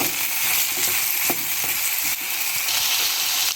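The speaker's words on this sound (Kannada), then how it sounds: "ನಾವು ಹೀಗೆ ಎಣ್ಣೆಯಲ್ಲಿ ಹಾಕ್ಕೊಂಡು ಫ್ರೈ ಮಾಡುವಾಗ ಚೆನ್ನಾಗಿ ಬೇಯುತ್ತೆ" Vegetables fry in oil for a temple-style sambar, producing a loud, dense, continuous sizzle up close, with faint stirring taps now and then.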